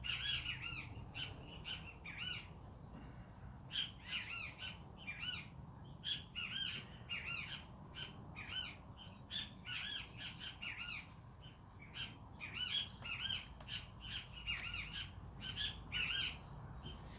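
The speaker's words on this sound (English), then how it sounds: "Sometimes I want to see what kind of birds this is." Small yellow birds chirp and squawk outdoors in quick, repeated bursts, bright and fairly close, over a soft steady background hum.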